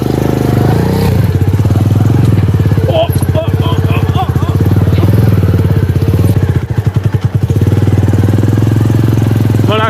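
Motorcycle ridden along a narrow, sandy path near a boat landing, its engine running steadily and loud with a rapid chugging throb throughout, a brief rev change midway.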